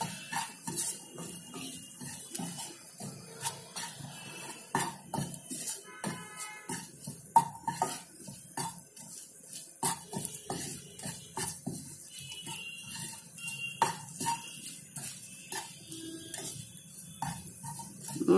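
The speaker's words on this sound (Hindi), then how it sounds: "इन मसालों को चला लेते हैं, थोड़ा सा चला के ये मिर्च भी डाल देते हैं इसमें।" Spices and green chillies being stirred in a pan while making an instant green chilli pickle. A spoon scrapes and clinks against the metal pan in irregular, close, moderately quiet strokes throughout.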